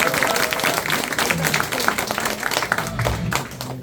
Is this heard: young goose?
no